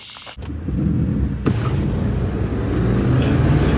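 A drag race car is launched on the street, its engine giving a loud, close, sustained roar and rumble that stays heavy throughout, with a brief sharp shift near the start and no speech.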